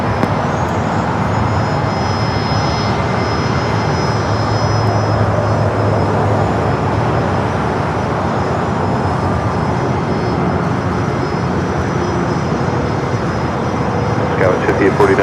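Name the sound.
American Eagle SkyWest CRJ jet taking off at LAX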